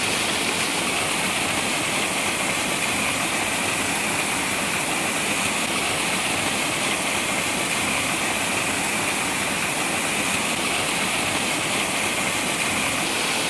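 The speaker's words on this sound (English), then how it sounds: "That's quite a waterfall, isn't it?" Pistyll Rhaeadr waterfall roars steadily and loudly at close range, a dense unbroken rush of falling water that holds level throughout with no voices.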